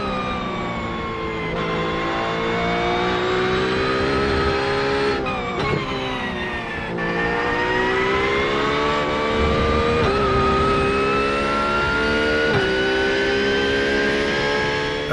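A racing-game car engine is driven through a direct drive wheel, its steady high-pitched whine holding almost constant for the whole stretch, rising and dipping slightly as the revs shift, loud and close with no voice.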